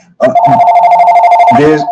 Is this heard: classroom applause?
no